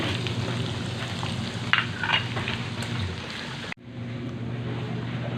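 Garlic frying in a pan as part of cooking rambutan seeds, a loud continuous sizzle and crackle that cuts off abruptly near the end before a quieter steady hiss resumes.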